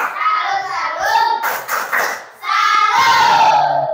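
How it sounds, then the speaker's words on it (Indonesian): A children's class doing a rhythmic salute clap, loud group clapping in a classroom, broken by a short pause, with children's voices chanting and speaking over the claps. "Kasih tepuk salut. Tepuk salut."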